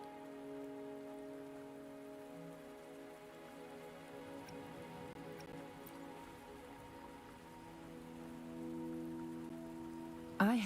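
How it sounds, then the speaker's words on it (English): Steady rain patters on a surface in a video game amid a low, tonal ambient hum, ending with a brief brighter sound. "Are you trapped here by the rain?"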